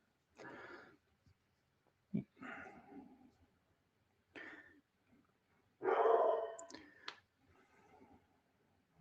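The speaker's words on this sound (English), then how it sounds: "my dog just barked loud as hell" A dog barks loudly indoors, four separate sharp barks spaced a couple of seconds apart, with near silence between them.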